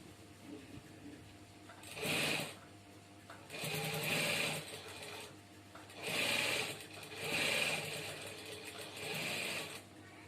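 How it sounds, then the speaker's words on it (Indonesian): A sewing machine stitches a Quran cover in five short bursts, each a couple of seconds long with brief pauses between, fairly quiet against a still room. "tinggal kita jahit ulang"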